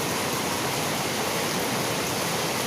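Heavy rain falling steadily during a downpour, a dense unbroken hiss of water close by with no voices or other sounds.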